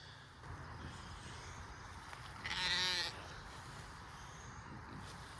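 A single sheep on a farm lets out one clear, wavering bleat lasting about half a second, heard over a steady outdoor background hiss with faint murmuring.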